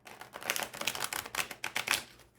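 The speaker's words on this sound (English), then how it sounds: "And let's go to a shuffle here, a riffle shuffle." Tarot de Marseille cards being riffle shuffled, a quick flurry of crisp clicking card flaps lasting a couple of seconds, close and fairly quiet.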